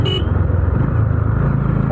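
A Honda Highness CB350 motorcycle cruises in fifth gear on a road, its engine a steady, close, low throb with a faint short beep at the very start.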